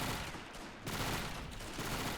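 Battle noise from Men of War Assault Squad 2 at the siege of Fortress Brest, where a Soviet PPD-40 submachine gun fires in a dense, continuous clatter of shots, with one short lull and no voices.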